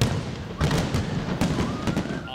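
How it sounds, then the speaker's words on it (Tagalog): A fireworks display at the close of the Panagbenga Festival 2024 booms in repeated thumping bursts with crackle over a dense crowd-like background. "At 5 magkakahiwalay na fireworks display, inabangan sa pagtatapos ng selebrasyon ng Panagbanga Festival 2024."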